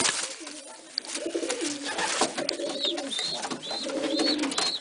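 Soft, repeated cooing of pigeons, low and throaty, continuing in rounds over faint high chirps, fairly close.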